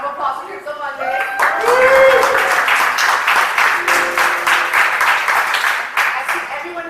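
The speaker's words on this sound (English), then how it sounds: "Round of applause for Crypto Mondays." A crowd claps and cheers in sustained applause, with a few whoops rising over it; a voice briefly speaks at the start.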